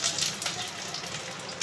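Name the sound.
pointed gourd (potol) frying in oil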